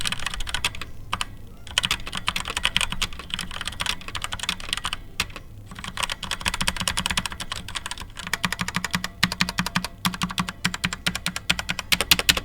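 Fast, continuous typing on a cheap $25 hot-swappable mechanical keyboard, straight out of the box, with dense close-up key clacks in a steady rapid rhythm and no voices.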